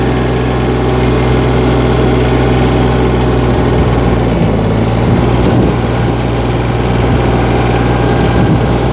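A tractor with a rotary tiller runs on wet, sticky farm soil, its engine holding a steady, close, continuous drone throughout with no talking.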